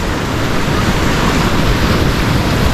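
Ocean surf breaks on the Central Coast shore, a loud, dense roar of crashing water mixed with wind buffeting the microphone.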